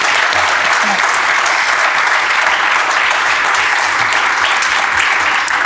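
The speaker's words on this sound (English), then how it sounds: "Let's give them a round of applause." An audience claps steadily at a West Michigan evening panel discussion on political violence. The applause is loud, dense and sustained, filling the whole stretch, with no talk over it.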